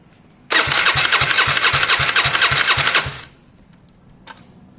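A Gilera DNA 125 scooter engine is cranked by its starter for about three seconds, a loud, fast whirring churn with steady rhythmic pulses, then it stops without catching and falls quiet.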